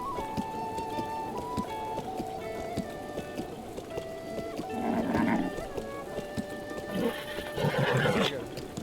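A horse neighing in Breath of the Wild, two whinny bursts in the second half rising over steady game music, fairly clear and close.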